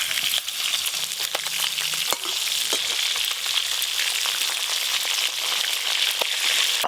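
Tangra fish frying in oil for a spicy Bengali curry, a steady close crackling sizzle that runs without a break, with brief stirring or flipping scrapes near the start and no talk.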